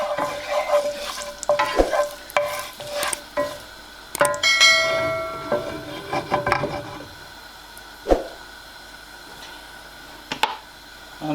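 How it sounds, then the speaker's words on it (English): Three cardamom pods roasting in a pan for egg biryani, with a soft crackle and sizzle broken by scattered metallic scrapes and clinks as the pan is stirred, fairly close, with no talking. "Three cardamom pods, that's enough. I'm gonna let it roast for a minute"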